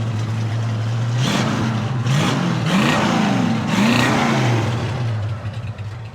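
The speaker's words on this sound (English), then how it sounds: "Good sound and dual exhaust." Several sharp revs from a 1973 Ford Mustang Fastback with dual exhaust rise and fall over a steady idle, the engine loud and close with no talking.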